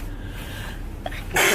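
A single sharp sneeze bursts out at the end after a quiet, breathy lead-in, close and loud.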